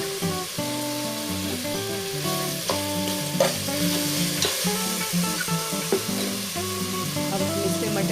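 Masala frying in oil in a pan for mutton korma, a continuous close sizzle with intermittent stirring clinks and scrapes, no voices.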